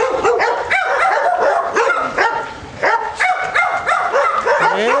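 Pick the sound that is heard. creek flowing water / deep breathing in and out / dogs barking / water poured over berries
dogs barking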